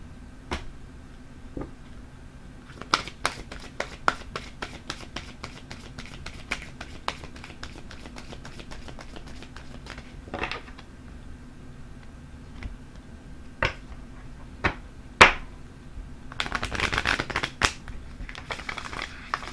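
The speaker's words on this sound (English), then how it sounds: "let's pull a romance angel card" Romance angel oracle cards being shuffled and drawn, a series of sharp card taps and flicks scattered irregularly over a quiet background, with a longer riffling burst near the end, close and crisp.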